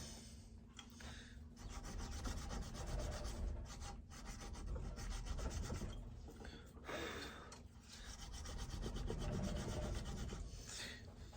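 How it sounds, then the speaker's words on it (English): A small hand file rasps steadily against the metal sight of a Traditions Kentucky caplock pistol, with repeated close, quiet strokes that pause briefly now and then. "So I'll take my little file right here, and we're gonna just make this marry up good with that barrel."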